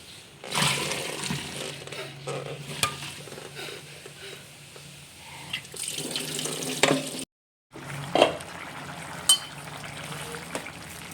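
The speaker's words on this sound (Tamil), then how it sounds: "இது நல்லா வெந்துருச்சு. இப்போ நம்ம வடிகட்டிக்கணும்." Water from freshly boiled pasta is drained out of the pot, making a quiet, uneven splashing and trickling that swells and fades in bursts with a short silent gap.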